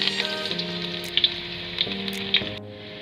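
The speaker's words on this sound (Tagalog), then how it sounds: "Painit po ng mantika, una po nating ilagay ang luya." Sliced ginger sizzling in hot cooking oil for home-style chicken tinola, a steady close crackle with a few brighter pops and a faint background hum, no talking.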